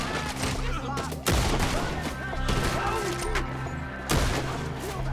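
Gunfire in Red Dead Redemption 2, loud repeated gunshot bursts over a busy battle scene, with shots cracking at uneven intervals and heavier blasts near the start and end while voices shout in the mix.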